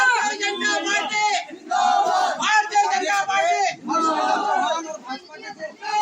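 A large crowd shouts political slogans for Nandu Bhaiya at a village gathering, loud rhythmic chanted bursts in several waves with short pauses between.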